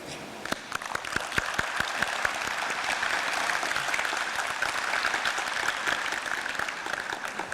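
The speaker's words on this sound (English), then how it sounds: "And I'd like to give him some applause." Audience applause at the World Knowledge Forum 2019 conference, a dense steady burst of clapping from a large crowd that starts with scattered claps and fills in quickly, continuing evenly to the end.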